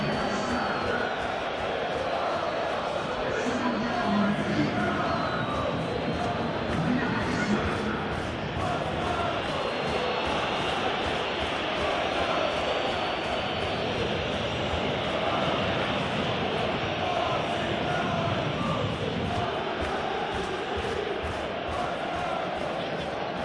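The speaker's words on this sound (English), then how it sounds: "The crowd are calling for this to be put to bed." Simulated stadium crowd at a football video game's Champions League final between PSG and Arsenal, a dense continuous roar and chant of many voices holding steady throughout with a commentator's voice over it.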